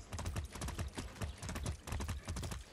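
Horse hooves clip-clop in Far Cry 6, a steady, fairly loud rhythmic stream of close hoofbeats running alone throughout.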